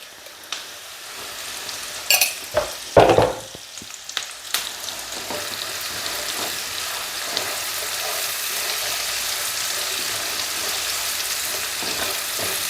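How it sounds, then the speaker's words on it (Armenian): Onion with a pinch of salt fries in a pan, a steady close sizzle that runs the whole way through, with a few sharp stirring clatters near the start. "Սոխը տապակվում է։"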